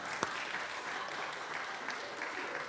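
An audience at a city council meeting claps, a soft, steady patter of applause heard from a distance, faint and continuous through the short moment.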